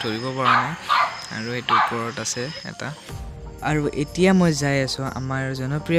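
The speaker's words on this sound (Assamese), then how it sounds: "চাওক জুবিন দাৰ কুকুৰ কেইটা ভুকি আছে" Several dogs barking at a house near the Brahmaputra river, a few short close barks mixed into steady talking by a man.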